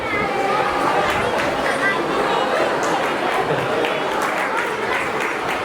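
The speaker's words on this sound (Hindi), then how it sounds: "एक बार इनके लिए जोरदार फिर से तालियां।" An audience at a senior citizens' honour ceremony breaks into loud, sustained applause, dense clapping mixed with crowd chatter.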